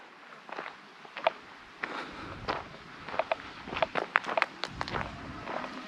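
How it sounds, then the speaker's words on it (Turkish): Footsteps crunch along a path through the old Ayandun neighbourhood of Direkli village in Türkeli, Sinop, an uneven series of nearby steps with faint background ambience and no talking. "Buradan doğru yürürüm büyük ihtimalle."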